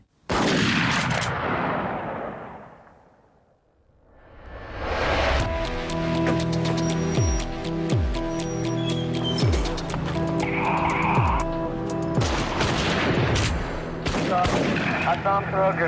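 Gunfire rings out at Columbine High School in a series of loud, sharp cracks and bursts, with overlapping echoing reports after a brief lull and voices underneath.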